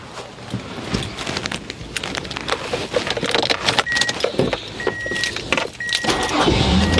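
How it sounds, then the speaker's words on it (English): A 2004 Mazda MPV with a P0304 misfire repair cranks and starts promptly, its engine catching and settling into a steady idle close by, with faint jangling of keys and brief electronic beeps in the cabin. "let's start the car."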